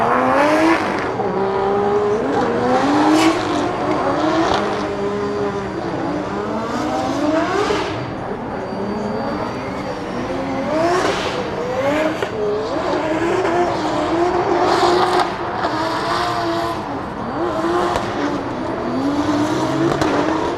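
Drift cars at a Drift Masters 2026 practice session in Germany scream through the corners. Revving engines and wailing, pitch-sliding tire squeal repeat in waves for twenty seconds, loud and continuous, with no voices over them.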